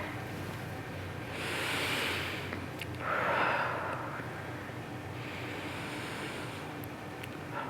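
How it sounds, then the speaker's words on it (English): A kindergarten class does a deep hand-breathing exercise together, with two broad breathy swells, a long exhale and then another, followed by softer steady breathing over quiet room noise. "Do we need to do some hand breathing"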